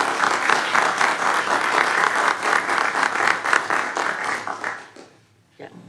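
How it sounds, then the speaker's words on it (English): A round of applause at a school board workshop fills the room with steady, dense clapping from many people, loud and sustained for about five seconds before fading out, followed by a brief faint sound. "How about a round of applause?"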